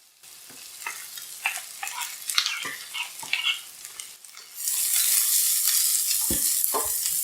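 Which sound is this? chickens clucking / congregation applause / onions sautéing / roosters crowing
onions sautéing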